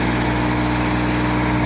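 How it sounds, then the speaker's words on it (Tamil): A tractor engine runs steadily, driving a small-scale paddy thresher through its PTO on an on-site farm demo, a loud, even drone with a strong low hum and no talk. "பார்த்தீங்கன்னா ஒரு டிராக்டர் ஓடுது."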